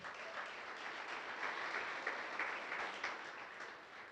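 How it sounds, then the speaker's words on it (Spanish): Congregation applause at a church service, a faint, steady patter of clapping heard from a distance in a reverberant room. "Dese otro aplauso esta mañana."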